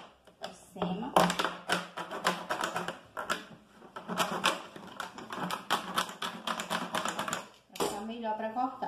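A plastic bottle being cut by hand for a cactus craft, giving rapid crisp snipping and crackling clicks in quick bursts, close up, with someone talking over them.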